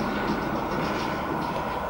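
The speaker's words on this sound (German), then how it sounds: "wir warten jetzt auf die Bahn" A train arriving at a station gives a dense, steady rumble and roar that stays loud and close throughout, with no voices.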